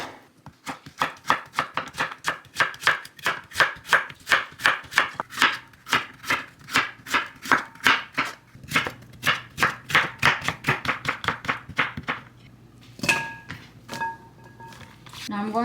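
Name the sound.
knife chopping Korean winter radish (mu) into thick discs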